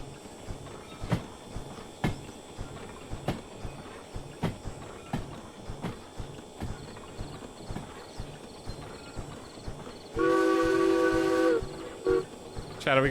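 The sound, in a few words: steam train chugging and whistling in a video game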